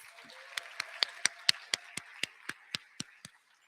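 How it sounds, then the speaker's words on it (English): At a white coat ceremony, about a dozen sharp, evenly spaced claps ring out one after another, moderately loud against a quiet room, like a single pair of hands rather than a full crowd. "Let's give them another round of applause."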